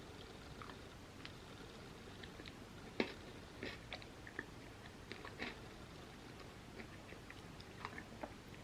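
Dark chocolate-covered pretzels are chewed up close, with faint crunchy bites and soft mastication clicks scattered over a quiet background.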